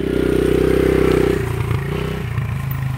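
A KLX140 dirt bike engine idles close by, a throbbing, lumpy putter that shifts pitch partway through the short stretch, with some clattering mechanical noise.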